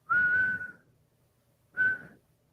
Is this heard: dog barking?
no